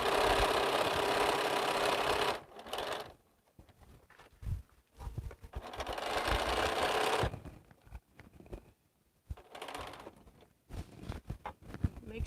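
A sewing machine stitches rows of quilt blocks, running in loud buzzing stretches that stop and restart, separated by quieter gaps of handling the fabric, close up.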